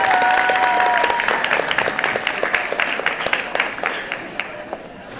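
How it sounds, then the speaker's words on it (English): An audience applauds as speaker Imani Hakim is introduced, strong dense applause at the start that gradually thins into scattered claps and fades toward the end. "let's give her a big round of applause"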